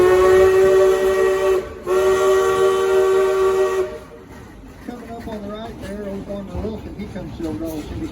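A steam locomotive whistle at Silver Dollar City sounds in two long, loud, steady blasts, the second held several seconds, followed by quieter rumbling and chuffing of the engine with voices in the background.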